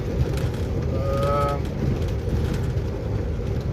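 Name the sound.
rain heard from inside a truck at night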